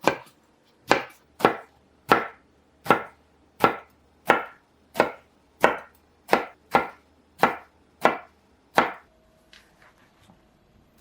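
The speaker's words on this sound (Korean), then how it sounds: "가지 껍질 부분에 칼집을 내주려고요. 먹기 좋은 크기로 자르세요." A knife cuts eggplant into bite-sized pieces on a board, with about a dozen crisp, evenly spaced chops close up, then a quieter pause at the end.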